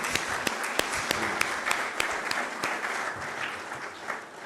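A crowd applauds the singers of the national anthems at a Pakistani state ceremony, with sharp individual claps standing out from a dense, steady wash of clapping that carries on without a break.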